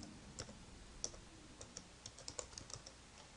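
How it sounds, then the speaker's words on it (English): Typing on a computer keyboard while an address is entered, a quiet, irregular run of light key clicks with small pauses, fairly close and alone. "So I'm just going to type in a random one."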